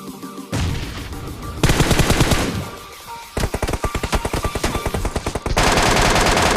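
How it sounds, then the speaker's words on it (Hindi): Loud, close automatic gunfire in a battle royale video game, rapid machine-gun bursts and sustained volleys that fill the clip with only brief gaps between them. "पीछे से भी गोलियाँ पड़ रही थी"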